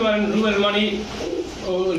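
Imported Pakistani Teddy and Golden pigeons coo softly in a market stall, a couple of low throaty calls close by while people talk around them.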